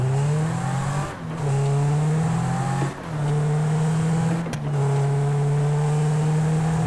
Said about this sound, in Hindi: ये हुआ टर्न अपनी गाड़ी।